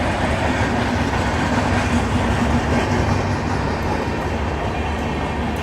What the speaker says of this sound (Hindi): ये सामने से निकल रही है सचखंड एक्सप्रेस